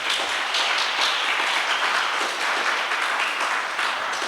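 A church congregation applauds, a dense, even roar of clapping that stays steady and fairly loud throughout.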